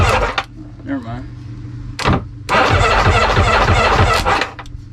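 The starter motor of a clapped-out jet ski that sat for years, wired straight to the battery, cranks in a couple of short whirring bursts and then one sustained grinding whir of about two seconds, close up, with a voice talking nearby.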